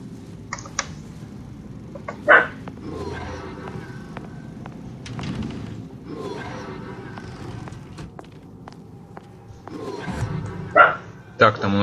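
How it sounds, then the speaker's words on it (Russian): A dog barks in BioShock Infinite: Burial at Sea, a few sharp yips and bow-wows spread across the stretch, mixed with game sounds and footsteps, while a person talks throughout. "Весело, да, собаку опять решила полаять."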